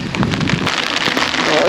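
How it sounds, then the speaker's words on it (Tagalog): Heavy tropical-storm rain pours on a mountain campsite at Victory Peak, a loud dense hiss of drops close to the microphone, steady throughout with brief irregular bursts. "Kaya nga lang yung ulan."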